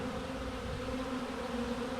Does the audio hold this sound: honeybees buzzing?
yes